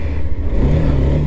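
Hero Xtreme 160R motorcycle engine running close by, a loud low idle that rises into a brief rev partway through.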